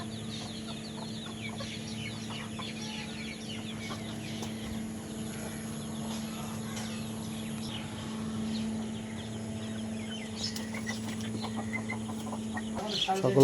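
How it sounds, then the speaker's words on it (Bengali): Crested desi chicken chicks on an integrated farm cluck and cheep steadily at close range, a dense continuous chatter over a low constant hum, growing slightly busier toward the end. "এই যে আমাদের দেশি মুরগির কিছু বাচ্চা উঠানো হয়েছে খোপাযুক্ত মুরগি"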